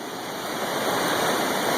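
Floodwater of the Lost River in Kentucky rushes in a steady, loud, broadband roar that fills the moment without pause, close and continuous, with no voices.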